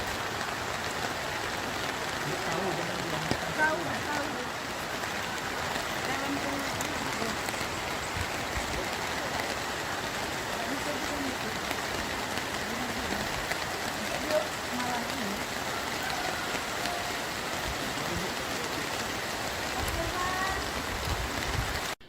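Heavy rain falls steadily over the town of Lahat, a dense continuous hiss throughout, with brief speech early on.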